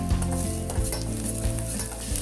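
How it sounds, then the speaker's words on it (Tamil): Curry leaves sizzle with softened onions in hot oil in a pan while a chow chow kootu is cooked, with a steady crackling fry and a ladle stirring in regular, repeated scrapes and no talking. "இதில் நான் கருவேப்பிலை போட்டுறேன்"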